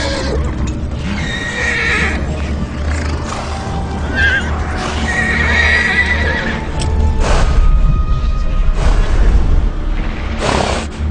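A horse neighs loudly several times over steady clip-clopping hooves and movement in a Kazakh historical film scene set among horses; no voices are heard.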